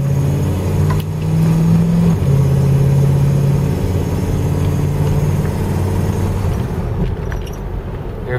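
A Chrysler Town & Country woodie station wagon with a 383 V8 accelerates, the engine drone rising and dropping through automatic gear shifts, loud and close inside the cabin.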